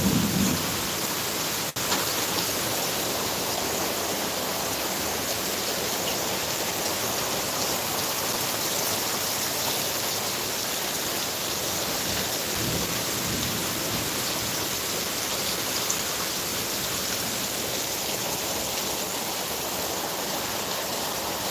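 Steady, heavy rain pours down in a dense hiss that stays even throughout, with faint low rumbles of thunder underneath and a single sharp crack near the start, no voices.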